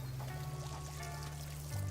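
A water spout in the video game Fresh Start Cleaning Simulator pours a steady, soft, continuous stream with no break, quiet and alone.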